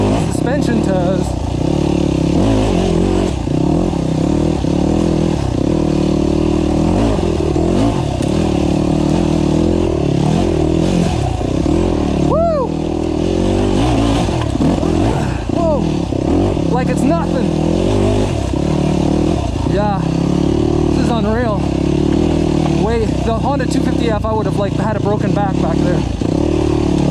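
A GAS GAS EC250F four-stroke enduro motorcycle runs continuously on a trail ride, engine loud and close with revs rising and falling, while a rider talks over it throughout.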